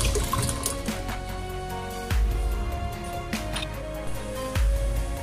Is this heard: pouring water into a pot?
yes